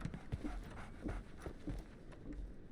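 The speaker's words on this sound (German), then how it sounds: "So, Barnes has a dog now. Who's a good boy?" A dog in the video game Sherlock Holmes The Awakened pants softly in a quick, rhythmic series of breaths, faint and close with low background noise.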